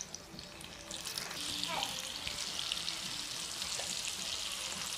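Pieces of brinjal drop into hot oil with curry leaves and fry with a steady, close sizzle that stays even throughout, with no voices over it.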